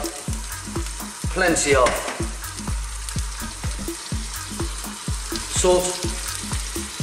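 Onions and chopped garlic frying in a pan for a Greek lamb and vegetable stew, giving a crackling sizzle with regular stirring knocks and a brief spoken remark over it.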